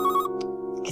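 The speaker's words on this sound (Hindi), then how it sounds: "किसका फोन आ गया इस वक्त?" A short burst of a phone ringtone, a steady electronic tone with harmonic layers, close and fairly loud, lasting about a second.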